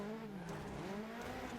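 Squeaky-sounding rally car from DiRT Rally 2.0 racing on a rallycross track, its whiny engine note climbing and dipping continuously near and loud, with gravelly tyre noise underneath.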